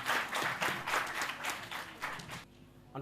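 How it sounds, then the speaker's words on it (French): An audience at a school quiz competition claps in a brief burst of applause with uneven swells, then it cuts off abruptly, leaving near silence at the end. "Je vous demande d'applaudir."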